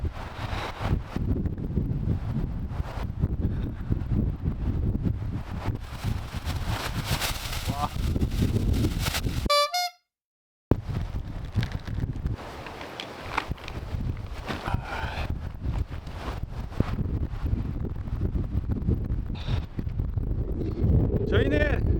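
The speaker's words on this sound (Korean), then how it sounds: "여기 바람이 너무 세게 불어가지고 안 되겠어요" Strong wind at a seaside campsite on Gadeokdo island in Busan, roaring and buffeting the microphone almost constantly, with a brief silent gap midway and faint rustling and footsteps underneath.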